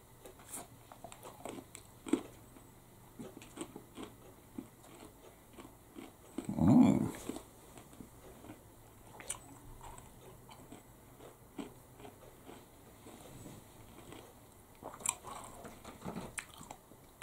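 A crisp Belgian thin biscuit with milk chocolate and hazelnut gets a single close crunchy bite. Quiet chewing follows, with soft crunches scattered over a hushed background and no talk.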